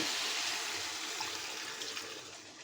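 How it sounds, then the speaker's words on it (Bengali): A small splash of water poured into a pan of Bengali egg curry, a brief continuous close hiss and trickle without speech. "সামান্য একটু জল দিয়ে দিব"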